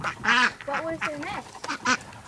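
Ducks on a farm give a run of loud, nasal quacks in uneven bursts, some overlapping, close by and clear.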